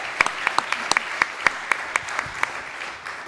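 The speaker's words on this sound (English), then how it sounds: "Round of applause for Cadence from Cowgirl Cosmetics" Sparse applause from an audience after a student business pitch at a grand final event, with a few distinct sharp claps ringing out over a thin room background for about three seconds.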